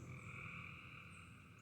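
Frogs croak in a steady, continuous chorus after heavy rain, the calls layered and sustained at a moderate, even level throughout.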